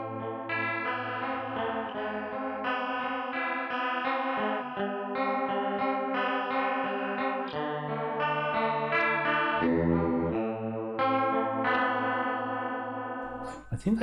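Electric guitar through a Keeley Supermod Workstation pedal set to its ADT mode, blending delayed and detuned voices into a thick, wavering doubled tone as a sustained chordal phrase plays steadily and loudly throughout.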